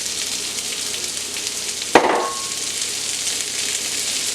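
Onions dropped into a hot cast iron skillet with sausage, a sharp clatter and burst of sizzle midway, then steady frying crackle continuing around it, close and fairly loud with no talking.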